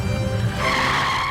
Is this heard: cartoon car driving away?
yes